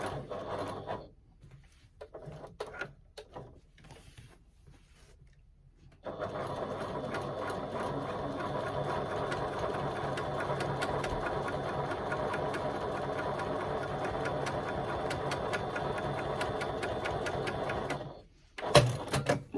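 After a few quiet clicks and handling noises, a sewing machine stitches a fabric panel onto foam in a long, steady, fast mechanical whir that runs for about twelve seconds and then stops.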